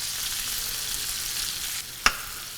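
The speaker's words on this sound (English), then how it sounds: "I'll saute that up." Peppers sautéing in a pan give a steady, moderate sizzle that drops away near the end, followed by one sharp clink of a utensil against the pan.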